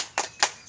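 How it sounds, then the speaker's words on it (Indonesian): Group of women in a class doing a rhythmic cheer clap, two quick, sharp claps spaced evenly apart, fairly quiet and alone. "Tepuk semangat."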